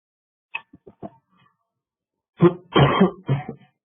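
A few soft throat-clearing sounds, then a burst of harsh flu coughs in quick succession, close by in an otherwise quiet room.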